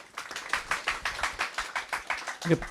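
Sparse, distinct hand claps from a small seated audience at an accounting exam-prep course information session, about a dozen separate claps at moderate volume, with a brief voice near the end.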